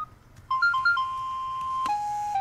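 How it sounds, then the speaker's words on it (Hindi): A phone ringtone plays a clear electronic melody of bright repeating tones, close and loud in an office, starting after half a second and continuing to the end. "फोन तो उठाओ।"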